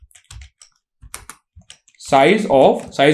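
Code being typed on a computer keyboard during a C programming lesson, sparse clicky keystrokes at first, then someone talks loudly over the final second.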